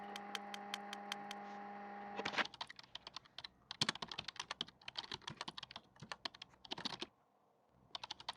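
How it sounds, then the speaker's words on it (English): Rapid clicking of computer keyboard keys during Python coding work, a steady burst of close, crisp taps with short pauses, preceded by a brief steady electrical hum. "Let me just finish typing."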